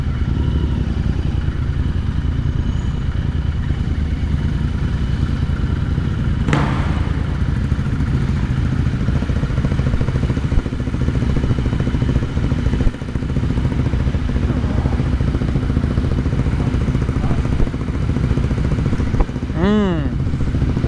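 A Royal Enfield Continental GT 650 motorcycle runs steadily nearby throughout, its engine and exhaust a continuous low rumble, with a sharp knock partway through and a brief rising whine near the end.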